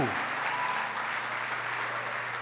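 Applause from a church congregation during a pastor's sermon, a steady even patter of clapping that continues throughout the moment with no talk over it.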